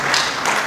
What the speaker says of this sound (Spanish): Todos palmas